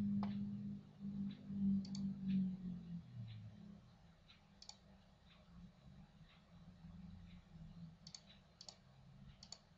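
Sharp mouse clicks at a computer while drawing a chemical structure, a few isolated ticks spaced irregularly over a low background hum, with a murmur of low sound early on.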